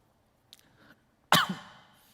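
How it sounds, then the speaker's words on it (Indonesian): A single sharp cough bursts out loud and close, preceded by a faint breath and trailing into a short throaty tail, in an otherwise quiet room. "karena di video, jadi batuknya juga mesti keren"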